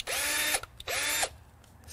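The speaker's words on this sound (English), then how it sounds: "And a drill." Two short bursts of a power drill spinning up, each about half a second long with a brief pause between, loud and close, then a quiet stretch with faint clicks.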